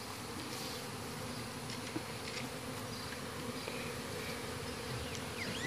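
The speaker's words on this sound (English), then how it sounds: "I have one bee crawling on my back" Honey bees buzzing during a bee hive removal in Harlingen, Texas, a constant close droning swarm hum that stays level throughout, with no speech.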